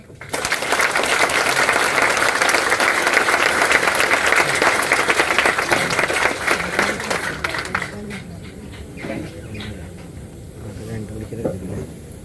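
An audience at a motivational talk claps loudly and steadily for about eight seconds, then the applause fades and a speaker's voice takes over.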